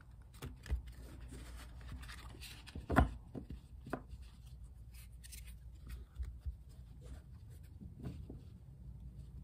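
Tarot cards are shuffled quietly by hand, giving soft, irregular rustles and light slaps with one sharper knock partway through, all faint against a low background hum.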